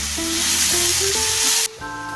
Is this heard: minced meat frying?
yes